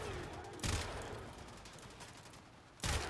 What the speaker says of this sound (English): The Perigale is an extremely impressive and powerful sniper rifle.